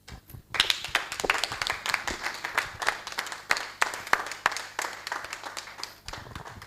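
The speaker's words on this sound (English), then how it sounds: "Please, a round of applause for him." Steady applause from an audience at a launch event, many hands clapping continuously for several seconds before fading, with dense overlapping claps.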